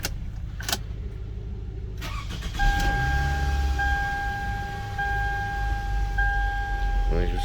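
A 2005 Toyota Camry engine cranks and restarts after clicks and a jingle of keys, settling into a steady idle with a faint electrical whine, heard up close.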